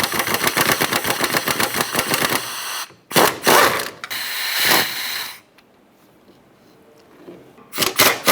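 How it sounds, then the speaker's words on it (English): A ratchet turning a 10mm socket on a swivel extension loosens small bolts on a 2005-2010 Chrysler 300 during exhaust manifold gasket work: a rapid run of close clicks, then short bursts of cranking, a quiet pause, and a final quick clatter. "These are a 10mm socket and our swivel with extension to go ahead and get to the smaller bolts here."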